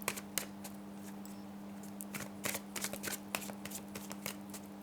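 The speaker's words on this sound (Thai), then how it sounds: "ต่อไปจะเปิดไพ่ให้สำหรับคนโสด" Tarot cards are handled, shuffled and laid out during a love reading for the Cancer sign, with quick, crisp card snaps and slides over a steady low hum, close and quiet, without speech.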